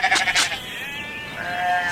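Dorset Down sheep at River Cottage bleat in two or three short overlapping calls at the start, followed by a longer wavering bleat, fairly close and clear against quiet outdoor background.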